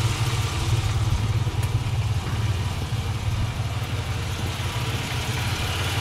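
A warmed-up 1986 Ford Bronco II engine idles steadily with a low, even rumble and light mechanical clatter, continuous and fairly close throughout, with no talking.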